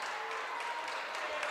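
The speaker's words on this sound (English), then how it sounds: "Crowd's going wild." A basketball crowd at a high school men's game, Snow Canyon versus Dixie High School, cheers and applauds in a steady wash of clapping and noise, fairly distant and uniform, with a commentator's voice faintly mixed in.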